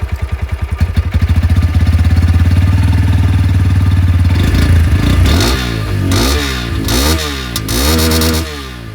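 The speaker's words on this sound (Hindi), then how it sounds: "सबसे पहले जो N125 की अंडर बिल एग्जॉस्ट है इसको मैं आप लोगों को सुना दूँ" A Bajaj Pulsar N125 motorcycle with an underbelly exhaust, starting with a few putters, then idling steadily before several sharp rising revs close by and loud.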